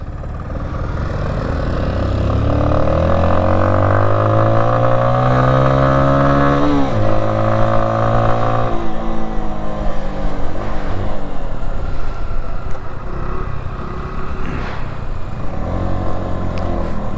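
CFMOTO off-road vehicles ride along together, their engines droning loudly and steadily, with rising and falling revs as they accelerate and ease off throughout.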